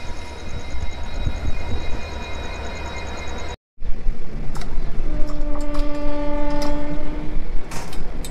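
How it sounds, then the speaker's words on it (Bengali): The Shalimar–Puri special train runs along the tracks with a loud steady rumble, broken by a brief cut, then resumes with a long sustained horn blast and rhythmic wheel clatter close by. "গাড়ি কিন্তু প্রচুর দাঁড়িয়ে দাঁড়িয়ে যাচ্ছে এবং প্রায় 2 ঘন্টা 45 মিনিট লেট চলছে এখনও গাড়ি।"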